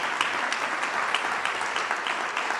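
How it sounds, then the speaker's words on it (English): Audience applause fills a room at a civic announcement, a dense, even patter of many hands clapping continuously and fairly loud, with no voices rising above it. "Let's just give them a little applause for that"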